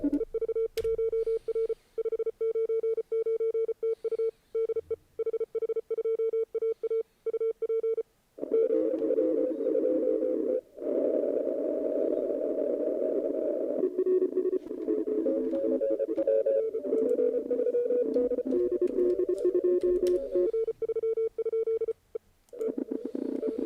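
Morse code CW radio signals from an HH2AA amateur operation: a steady train of rapid on-off tones, first fairly clean, then buried in a dense crowded pileup of overlapping signals and static, continuous throughout.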